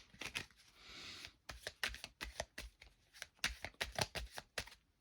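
A deck of tarot and angel oracle cards is shuffled by hand during a card reading. The riffles and snaps come as a quick run of crisp, close bursts with no voice over them.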